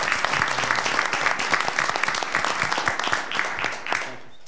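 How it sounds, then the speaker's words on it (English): A crowd at a school board meeting applauds steadily for several seconds, dense clapping that fades out at the end. "Can we give them a round of applause?"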